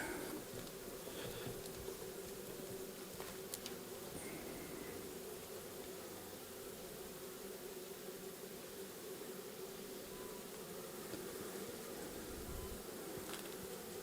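A steady, dense buzzing of many honeybees at an open Warré hive fills the scene, close and continuous, with a few faint clicks and no talking.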